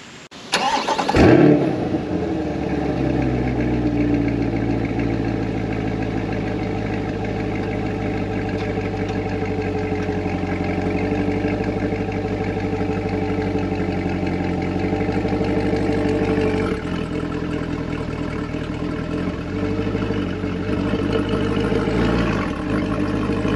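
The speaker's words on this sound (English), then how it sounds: "I'm going to back up on the ramps." A 2020 Chevrolet Corvette C8 starts with a sharp crank and brief rev, then settles into a steady, close idle while slowly backing up onto ramps, engine note shifting slightly near the end.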